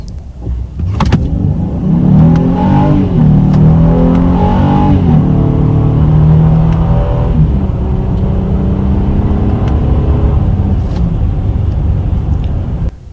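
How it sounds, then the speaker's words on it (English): A 2021 Honda Ridgeline HPD pickup with a 280-horsepower engine pulls hard from a standstill in a 0 to 60 run, its engine note climbing through the gears as a loud, steady roar heard from inside the cab. "Now we are going to check the 0 to 60 miles here, 0 to 60 mile test right here."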